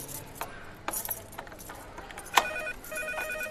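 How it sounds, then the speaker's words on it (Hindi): A telephone rings with a bright electronic trill amid faint clattering and background noise, brief and moderately loud. "अंदर से फोन की घंटी बजने लगी"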